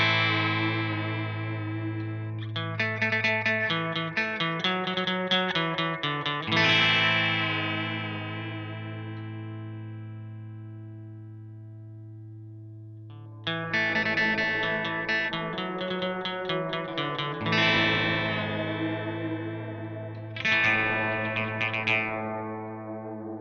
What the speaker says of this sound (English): the spring reverb, that is the first of the real-world reverbs, has the chance to add a mild overdrive